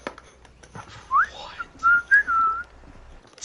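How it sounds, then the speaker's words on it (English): A person whistles a few short, clear notes, a rising slide followed by a pair of steady tones, close and fairly loud over faint background noise. "wait till somebody whistles."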